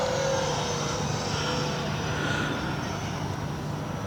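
A 1/3 scale Heath Parasol RC model airplane, a replica of a 1930s aircraft, flies overhead at St. George, Utah, its engine droning steadily with a constant whine throughout.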